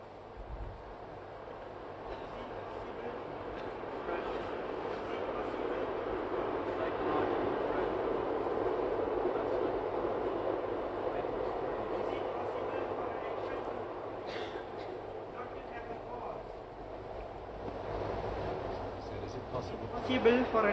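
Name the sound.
passing train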